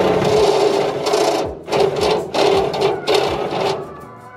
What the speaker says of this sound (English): that's where we're going to drill our holes